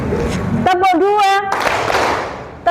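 Schoolchildren in an Indonesian classroom clap together in a clap game, with loud bursts of clapping before and after a short stretch of a spoken voice.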